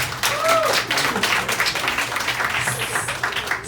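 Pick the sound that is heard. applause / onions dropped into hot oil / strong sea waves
applause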